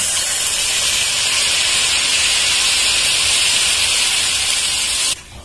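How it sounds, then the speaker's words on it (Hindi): Malpua batter of maida and semolina ladled into hot oil, setting off a loud, continuous close-up hiss and sizzle that runs steadily and then cuts off abruptly near the end. "अब हम इस कलछी से एक कलछी तेल में इस प्रकार डालेंगे"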